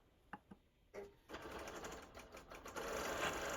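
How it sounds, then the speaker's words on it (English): A longarm quilting machine stitches out a quilt block. A few soft clicks come first, then a steady, rapid mechanical whirr of stitching starts up and grows louder and fuller toward the end, with no voices. "we can go ahead and start sewing out this block"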